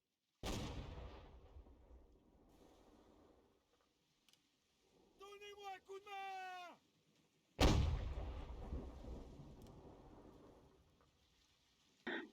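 Artillery ranging shots in the video game Holdfast 2: two sharp, booming cannon reports a few seconds apart, each decaying into a rumbling tail, with a brief burst of other game sound in between.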